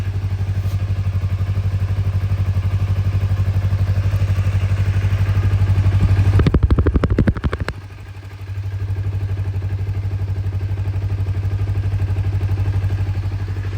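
A Honda 250R motorcycle engine idles with a steady, close, rumbling chug, briefly revving into a rough rattling burst before settling back to idle.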